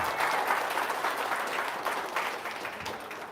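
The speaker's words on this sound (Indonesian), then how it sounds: "Tepuk tangan dong." Audience applause at a talk, a loud burst of many hands clapping that carries on steadily and then thins a little toward the end.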